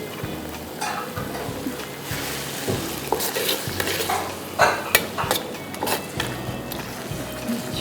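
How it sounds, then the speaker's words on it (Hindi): Cornflour slurry is stirred into Szechuan chicken in a pan, giving steady sizzling and frying under scraping and clinking of a utensil against the metal. "अब कॉर्नफ्लावर की अब स्लरी कॉर्नफ्लावर डालेंगे।"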